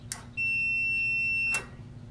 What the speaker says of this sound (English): I set my meter to beep when there's a completed circuit.